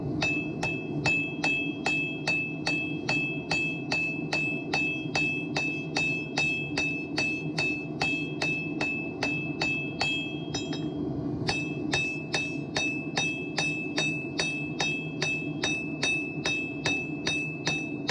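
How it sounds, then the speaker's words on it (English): Hammering on metal at a small forge, a long run of evenly spaced ringing blows struck close, each hit bright and metallic with a sustained tone, with one brief pause near the middle before the rhythm resumes. "You might see me bang on the same spot a couple of times."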